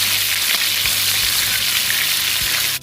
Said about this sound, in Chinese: 锅中加油，鸡翅直接下锅煎